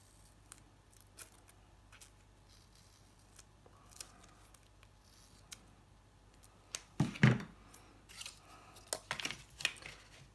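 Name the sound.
scissors cutting thick tape up the middle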